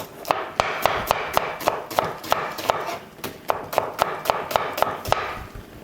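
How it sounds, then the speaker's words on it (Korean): A knife chopping onion and green onion on a cutting board, a steady run of about twenty crisp, close chops with a brief pause midway. "그래서 지금 양파하고 대파 조금만 잘라줄게요."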